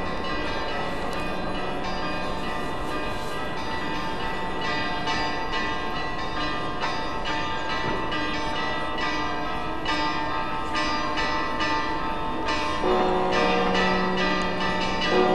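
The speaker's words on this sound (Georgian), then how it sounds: "აი თქვენ უკვე გესმით ზარების რეკვის ხმა" Church bells at Sameba Cathedral peal continuously before the 2012 Easter litany, several bells sounding together in a loud, dense, unbroken ringing.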